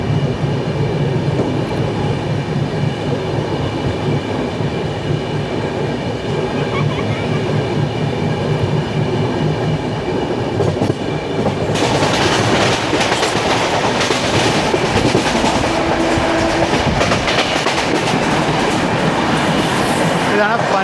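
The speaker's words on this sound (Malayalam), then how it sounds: "ഇതാണ് പൻവേൽ വസായി റോഡ് മെമു." A Panvel–Vasai Road MEMU train on a Western Railway rake at a station, loud and close, with a continuous rumble and rhythmic wheel clatter that swells sharply partway through as it passes, with faint voices underneath.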